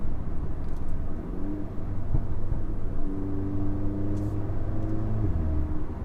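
An APR Stage 2 Audi S3 with full bolt-ons revs steadily, its engine tone rising and falling in a continuous near rumble; distinct exhaust pops and bangs are not clearly separated from the droning revs.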